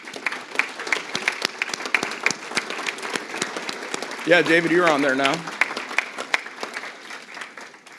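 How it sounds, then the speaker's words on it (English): Scattered claps and cheering from a room crowd applauding the legislative committee at a political breakfast event, steady throughout, with a voice briefly speaking over it midway. "If the legislative committee would just stand up for a round of applause."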